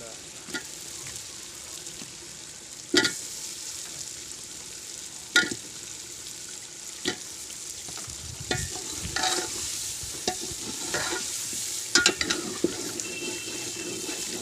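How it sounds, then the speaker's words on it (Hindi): Large potato pieces sizzle steadily in hot oil in a pot while a spoon stirs them, with periodic scraping knocks against the metal over a continuous frying hiss, close by and without talking. "आलू साइज़ में बड़े हैं, तो इनको अच्छी तरह पहले भून लेंगे"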